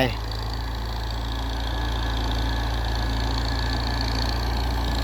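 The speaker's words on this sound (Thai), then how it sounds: "รถไถนาแรง" A diesel farm tractor engine runs steadily throughout while preparing a field before rain, a loud low rumble with a regular chugging pulse, close by and unchanging.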